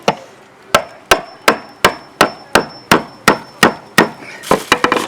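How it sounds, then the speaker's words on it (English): Hammer blows knock out a section of wooden boat deck during leak repair, a steady series of about a dozen sharp, loud, close impacts roughly every third of a second, quickening into a cluster of rapid hits at the end. "this is just kind of tedious, hammering and knocking it out like this"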